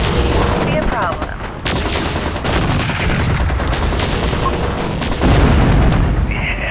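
Rapid gunfire and booming blasts from a MechCommander battle on the Isle of Malenkov, a dense, continuous barrage of shots and explosions lasting the whole stretch, loud and close with heavy impacts near the end.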